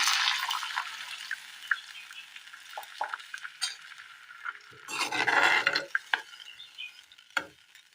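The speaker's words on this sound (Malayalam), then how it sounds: "അതിലേക്ക് അല്പം വെള്ളം ഒഴിച്ചു കൊടുക്കാം" Loud sizzle bursts as water is poured into softened frying onions for fish curry, then stirring scrapes and clinks of a utensil against the pot.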